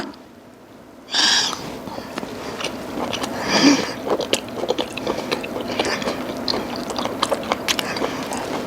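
Close, loud chewing of buttered grilled abalone, with wet, squishy bites and mouth sounds repeating steadily after a quiet opening.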